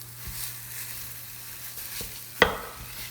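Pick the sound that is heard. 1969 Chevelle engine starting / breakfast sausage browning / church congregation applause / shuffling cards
breakfast sausage browning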